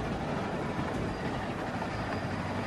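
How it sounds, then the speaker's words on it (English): A train rolls steadily along in The Walking Dead video game, a constant dense rumble with faint clattering from the rails and no breaks, moderately quiet, with no voices. "Stop the train."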